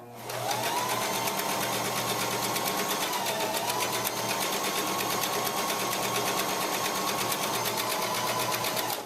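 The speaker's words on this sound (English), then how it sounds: "we're going to sew a straight line" A sewing machine stitches a straight seam on a pillow. It makes a steady, loud, fast mechanical whir that runs without a break from start to finish, with no voices.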